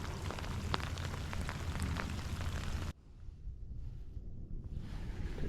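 Rain and gusting wind sweep over open water during cold-water bass fishing from a boat: a loud, roaring wind rush that abruptly drops halfway to quieter, patchy wind and patter.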